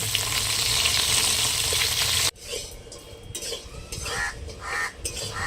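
Potatoes and a few beans dropped into hot oil in a home kitchen, a loud, even sizzle that cuts off abruptly, followed by quieter frying with stirring scrapes and clinks of a utensil against the pan.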